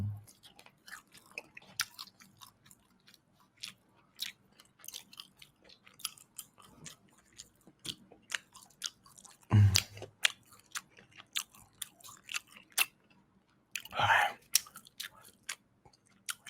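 Close, quiet crunching and chewing with scattered bites and soft mouth clicks, including a couple of louder crunchy bites, no talking.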